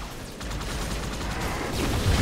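Gunfire in the video game Halo 2: a continuous, dense stream of rapid shots, close and loud, with a heavier thump near the end and no talking.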